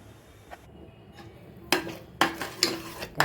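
Sugar stirred into cooking dal for puran poli, with a spoon scraping and clinking against the pot in several sharp knocks and scrapes that grow louder toward the end, close by and without talk.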